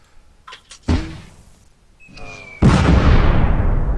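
Mortar fire in the tactical war game Tigers on the Hunt: a sharp thump, then a heavy booming blast that rolls into a long sustained rumble, with faint brief voices before the impacts.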